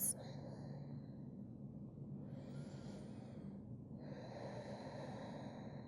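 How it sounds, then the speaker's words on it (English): Slow, deep breaths drawn through the nose during a yoga session, each a soft airy rush that swells and fades, heard close and quiet over a low background hum. "complete, deep breaths."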